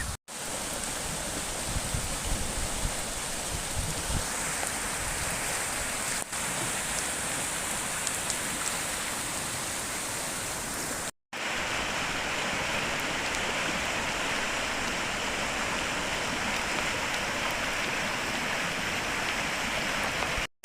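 The Porter Brook in flood, swollen water roaring in a loud, steady broadband rush that fills the whole stretch, broken only by a brief cut partway through.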